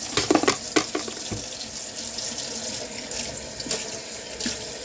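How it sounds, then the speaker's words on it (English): Water splashing from a tap into a sink, with a quick cluster of louder splashes near the start followed by a steady running wash of water. "So I just splashed you with water."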